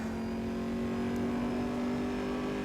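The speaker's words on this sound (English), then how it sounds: "dropping the throttle and hitting the rev limiter" A Corvette race car in Assetto Corsa held at its rev limiter, a steady droning engine tone heard from the cockpit, fairly quiet and unbroken, ending with a small sharp click.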